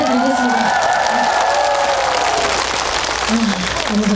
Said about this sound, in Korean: 지휘자 선생님과 다른 분들께도 큰 박수 부탁드리겠습니다